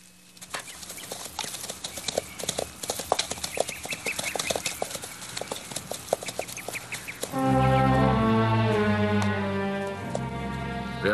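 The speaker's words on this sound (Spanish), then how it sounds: "¿De quién son esos caballos?" Horses trotting with quick, uneven clip-clopping hooves, fairly close, for about seven seconds, then giving way to a sustained musical passage.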